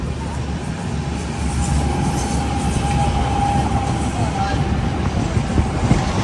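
A local train rumbles past alongside a Humsafar Express, a steady loud rolling roar of wheels on rails with a faint clatter, heard from aboard the moving train.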